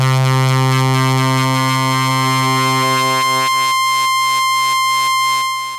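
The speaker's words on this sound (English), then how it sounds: "Waveform A, the sine wave." A New Mexico Wavesplice synthesizer module plays a steady pure sine-wave hum, shifting partway through into a brighter, pulsing buzz that repeats rapidly before fading slightly.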